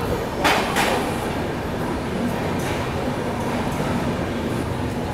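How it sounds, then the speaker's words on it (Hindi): Dakshin Express train pulling into Agra Cantt railway station at night, a steady loud rumble of rolling wheels and carriages with a couple of brief sharp squeals early on. "यहाँ देखिए फाइनली हम लोग आगरा कैंट रेलवे स्टेशन पहुँच रहे हैं।"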